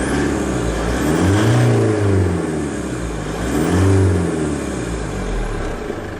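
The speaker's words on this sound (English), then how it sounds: "So let's just press the accelerator once again." A car engine, checked with an OBD2 scanner, revs twice as the accelerator is pressed, each rise swelling and falling back to a steady idle, loud and close with no talk.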